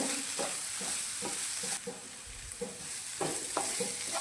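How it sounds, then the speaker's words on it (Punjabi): A spoon scrapes and stirs turmeric powder through tomatoes frying in a pan, with soft repeated strokes over a steady close sizzle and no talking. "ਇਹਦੇ ਵਿੱਚ ਆਪਾਂ ਪਾ ਦਿੰਦੇ ਆ ਥੋੜੀ ਜੀ ਹਲਦੀ ਪਾਊਡਰ ਇਹਨੂੰ ਵੀ ਮਿਲਾ ਦਿੰਦੇ ਆ"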